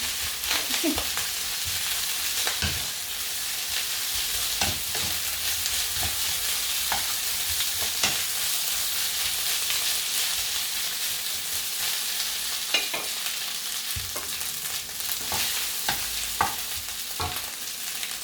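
Fried rice with naem, Thai fermented pork, stir-frying in a hot pan: continuous loud sizzle with repeated spatula scrapes and clinks at an uneven rhythm, close by and with no talking.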